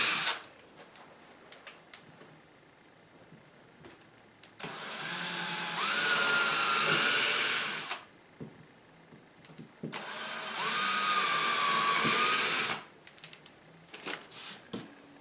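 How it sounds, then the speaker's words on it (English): A power drill bores partway into a sliding closet door in two sustained bursts of about three seconds each, loud and close, whining and grinding. Quieter handling noises fill the pauses. "You drill about half the thickness of the door so that you can actually accommodate these screws."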